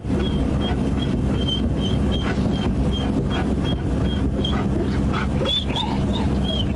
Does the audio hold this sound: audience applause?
no